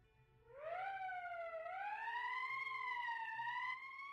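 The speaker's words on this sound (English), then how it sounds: "That's the emergency siren." An emergency siren in the video game Valkyria Chronicles rises, then holds a steady, slowly wavering wail. It is fairly loud and heard alone, with no speech over it.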